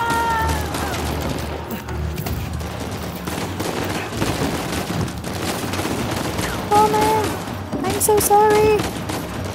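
Gunfire in Uncharted 4 crackles in rapid, dense bursts throughout, with shouting voices cutting in and a player speaking over the action.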